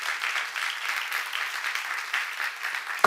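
A church congregation claps steadily at moderate loudness for about three seconds, a soft even patter with no voices over it, ending in a brief sharp knock.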